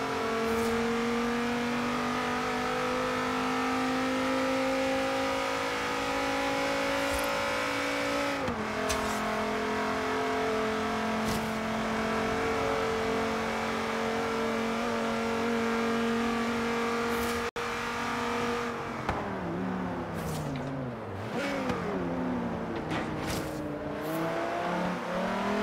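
A Dodge Viper in Forza Horizon 3 drones with a loud, steady engine note that dips at a gear change, then rises and falls through corners with faint tire noise.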